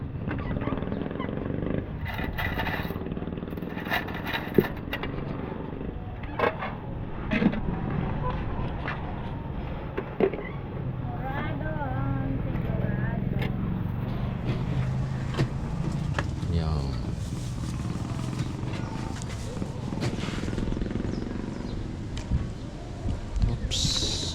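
Roadside street ambience beside a food stall at breakfast, with a steady wash of passing traffic and engine rumble, occasional clatter, and people talking throughout.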